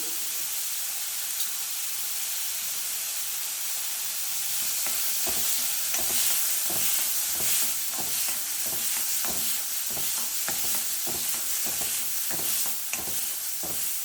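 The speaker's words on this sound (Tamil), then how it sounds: "இது நல்லா வறுத்து எடுத்துலாங்க." Lentils dry-roasting with turmeric powder in a pan for paruppu rasam give a steady sizzling hiss, with a run of scraping stirs joining from about five seconds on, close and unaccompanied by talk.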